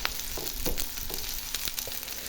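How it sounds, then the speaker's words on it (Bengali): Onions fry in a pan as Bengali sweet potato leaf bhaji is prepared, giving a steady close sizzle with a few faint stirring scrapes and no voices. "পেঁয়াজটা আমার প্রায় ভাজা হয়ে গেছে, আর একটু ব্রাউন করব"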